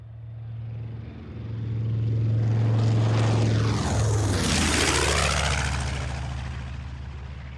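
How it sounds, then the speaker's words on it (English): A radial-engined propeller airplane passes overhead at an Oshkosh airshow, a deep droning roar that swells as it approaches, peaks with a falling pitch sweep, then fades away. "From whence comes that divine sound? Is it not the baritone siren song of a radial-engined angel?"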